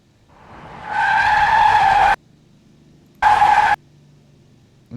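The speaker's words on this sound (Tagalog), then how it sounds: "Car screech." Car brakes screech and tires squeal in a long, loud skid lasting over a second, followed by a second shorter screech, both sharp and close.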